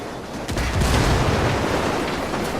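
A destroyed convoy of trucks and an armored personnel carrier keeps going off in secondary explosions in a Vietnam War video game, heard as a loud, continuous rumbling roar with sharper bursts and a faint voice beneath it.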